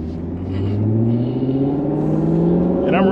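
A C7 Corvette with an Akrapovic exhaust revs up and accelerates, its pitch climbing steadily as it pulls away loudly and close.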